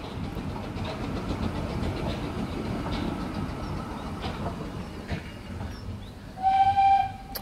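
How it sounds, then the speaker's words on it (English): Steam train with an open carriage passing outdoors, a broad rumbling roll that swells and fades, ending in a short sharp whistle-like tone. "We should just take a moment to appreciate the steam train."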